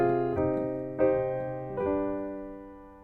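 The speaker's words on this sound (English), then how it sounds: "And here's the sound of its parallel minor." Three sustained chords in a parallel minor key ring out one after another from a musical instrument, each attack decaying slowly, soft and close with no voices.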